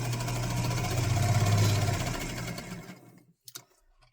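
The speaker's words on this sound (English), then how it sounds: "I can just make sure that I sew on the fabric" Sewing machine stitching the fabric of a zipper pouch, a fast steady mechanical whir running close and loud for a few seconds before stopping, followed by a couple of small clicks.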